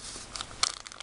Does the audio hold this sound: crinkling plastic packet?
yes